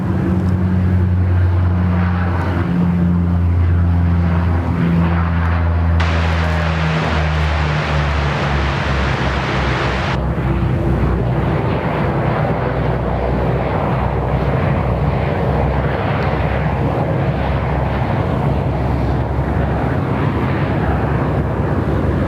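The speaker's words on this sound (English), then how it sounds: "we'll enjoy the A380 there on approach for 34 left" Airbus A380 airliner on approach to runway 34 left at Sydney Airport, its deep engine roar loud and steady throughout, swelling with a brighter broadband rush midway before settling into a sustained rumble.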